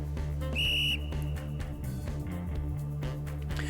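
A coach blows a whistle in the video game Snoot Game 2, one short piercing shrill blast over a steady droning music bed with no voices.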